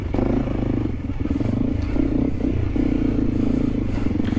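Honda CRF300L Rally dual-sport motorcycle climbing off-road at a trail event, its engine droning steadily up close amid clatter and scraping over rough ground.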